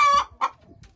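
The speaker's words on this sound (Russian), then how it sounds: "И петух пригнал всех кур нести яйца." Hens and a rooster at laying nests give two or three sharp, close clucks in quick succession, loud at first and fading out within a second.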